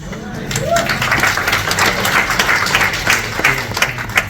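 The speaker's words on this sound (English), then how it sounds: "That's something to clap your hands about." A crowd at a Dallas Super Saturday business event claps in a brief, dense burst of applause lasting a few seconds, with a speaker's voice heard over it.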